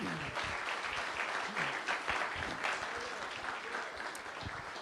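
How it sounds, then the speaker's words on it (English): Audience applause at a community live-streamed gathering, a steady wash of many hands clapping at moderate level throughout, with some voices mixed in beneath the clapping. "let's give another round of applause."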